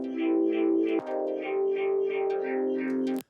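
A Magduit 9th Resonator pedal lays a resonating ninth chord over the input signal, giving a sustained, close chordal drone with rhythmic swelling pulses and a brief dip partway through, heard alone.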